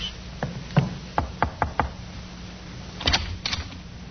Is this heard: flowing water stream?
no